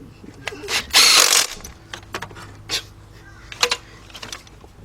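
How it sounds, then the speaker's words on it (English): A ratchet tightens two 12mm bolts on the 2.7-litre engine of a 2006 Kia Sportage during removal, with short close clicking bursts, one loud hissing rush early on and scattered knocks. "let's tighten up those two 12mm bolts"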